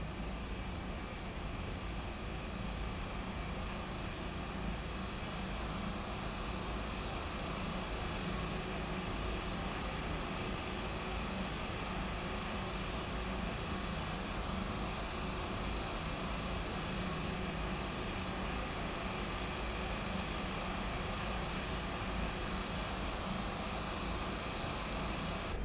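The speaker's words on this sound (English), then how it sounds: "We're just taxiing into the gate area right now." An A320 airliner taxiing into the gate area at Sarasota, its engines droning steadily and loudly without pause, heard from inside the aircraft.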